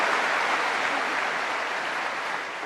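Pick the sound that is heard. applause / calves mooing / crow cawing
applause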